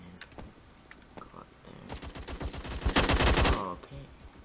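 Automatic gunfire in the Phantom Forces video game, a few scattered clicks giving way to a loud, rapid burst of shots that swells near the middle and fades, with a voice faintly under it.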